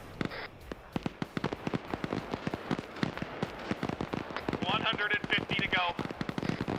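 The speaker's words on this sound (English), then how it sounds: "Seems to be a lot of shooting east." Rapid crackling gunfire rattles steadily through a military video game battle, dense bursts of shots with a brief higher-pitched radio-like chirp midway, while a voice speaks briefly over it.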